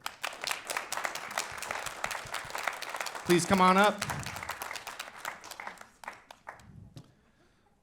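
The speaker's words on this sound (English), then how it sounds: "Please give a big round of applause for Rayvon Gary." An audience claps steadily at a poetry slam awards ceremony as an honorable mention winner is called up, the applause running under a presenter's voice and fading out near the end.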